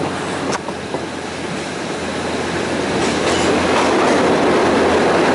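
A train on the Thai northern railway rumbles steadily along the rails near Khun Tan station, with faint clickety-clack and a continuous loud roar that swells slightly toward the end.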